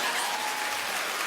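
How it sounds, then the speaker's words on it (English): A studio audience at a daytime talk show breaks into dense, loud, continuous clapping, a bright uniform wash of hands with no voices over it. "now you can clap"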